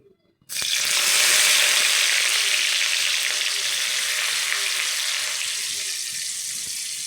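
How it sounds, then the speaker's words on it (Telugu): Onions dropped into hot oil, a sudden loud sizzle bursting up after a brief quiet moment and then holding steady as a bright, close hiss, easing slightly over several seconds. "ఇప్పుడు ఆయిల్ బాగా వేడెక్కిందో లేదో చూసుకొని ఆనియన్స్ వేసుకోవాలి."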